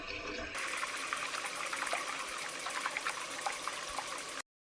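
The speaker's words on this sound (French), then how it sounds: "remplis ton lavabo avec de l'eau" Water running from a tap into a sink basin, a steady close splashing trickle that continues evenly before cutting off abruptly.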